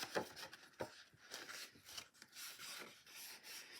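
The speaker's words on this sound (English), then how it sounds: "I'm just going to fold those tabs." Cardstock envelope tabs being folded and creased for mini slimline Christmas cards, giving soft, close rubbing and scraping strokes in a quiet room, a few sharper rasps among gentler brushing movements.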